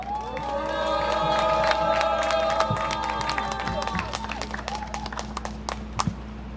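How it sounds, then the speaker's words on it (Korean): Crowd at an outdoor rally clapping and cheering to welcome a speaker, with voices and whoops over the applause early on, thinning to scattered claps toward the end. "뜨겁게 박수 환영하겠습니다"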